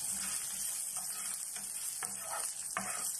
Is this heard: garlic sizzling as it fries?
yes